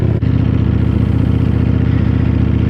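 A 2018 Ducati Panigale V4S sits at a loud, close idle, its deep burbling rumble steady apart from a brief dip near the start, with nobody talking.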